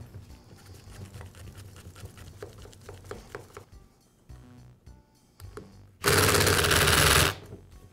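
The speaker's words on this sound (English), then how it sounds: "Then I'll use my impact to finish up" A cordless impact driver drives screws back into a Milwaukee reciprocating saw's gearbox during a repair, one loud, sustained buzzing burst of about a second after quieter clicks and handling noise at the workbench.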